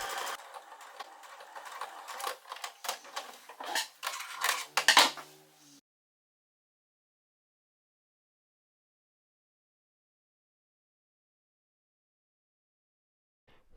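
A sewing machine stitches the sleeves of a bustier dress, running in close, uneven bursts for about six seconds before falling silent.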